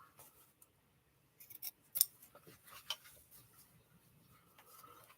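Scissors snipping embroidery fabric and thread, a handful of short, close, crisp cuts spaced unevenly with quiet pauses between.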